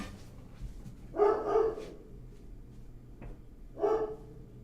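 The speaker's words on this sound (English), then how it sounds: "My dog's barking" A dog barks twice, loud and fairly close, with a pause between the barks over a low, quiet background.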